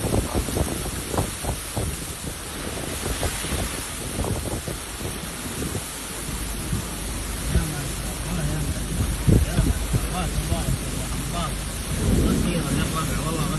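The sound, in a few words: heavy rain in Tabuk, Saudi Arabia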